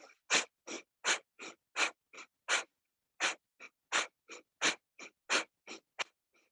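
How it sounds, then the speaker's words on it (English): Breath of fire from Kundalini yoga, a long series of sharp, forceful nasal exhales in a fast, fairly even rhythm, with a brief pause partway, close and clear against near silence. "in an exhale, actively through the nose. It's called the breath of fire in Kundalini yoga"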